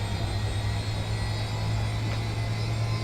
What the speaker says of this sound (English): starting engine number 1, starting engine number 4.